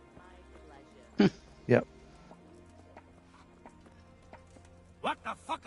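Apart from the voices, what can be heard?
horse hooves clip-clop in video game Kingdom Come Deliverance II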